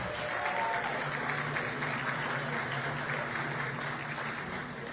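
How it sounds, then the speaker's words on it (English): A crowd at a Juneteenth community celebration gives a round of applause for the event organizers, a steady wash of many hands clapping at moderate volume for the whole stretch, with no voices over it. "Will y'all give them a round of applause, please?"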